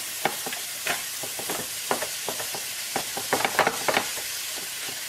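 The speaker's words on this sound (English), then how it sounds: "let me get this ground beef browned" Ground beef browning in a pan with a splash of Worcestershire sauce, pepper and salt, a steady sizzling hiss punctuated by repeated scraping stirs of a utensil, close and fairly loud.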